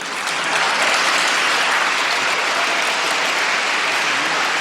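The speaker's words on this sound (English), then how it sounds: "I think you should applaud" Steady, dense applause from a large audience fills the space alone, loud and sustained from start to finish without letting up.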